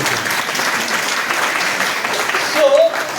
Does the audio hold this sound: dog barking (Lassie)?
no